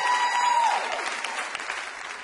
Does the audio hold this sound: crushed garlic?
no